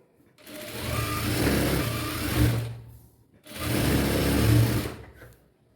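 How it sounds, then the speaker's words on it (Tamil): Sewing machine stitching plain blouse fabric, running in two steady bursts of a few seconds each with a brief pause between, close and fairly loud with no talking. "அது மேலே படிமான தையல் போட்டுக்கோங்க"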